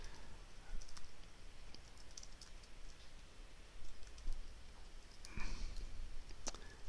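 Commands are typed on a computer keyboard in quick, light, irregular bursts of clicks, quiet and close, with no voices.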